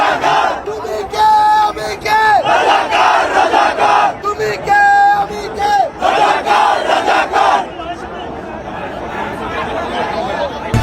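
Protesters at a Bangladesh quota-reform demonstration chant a slogan in loud, rhythmic unison, a dense crowd of voices rising and falling in repeated bursts before settling into a steady roar of crowd noise.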